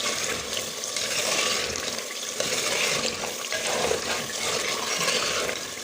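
Goat trotters (paya) fry in a pan and are stirred over and over, giving a continuous sizzle with scraping and watery bubbling throughout, close and fairly loud, with no speech.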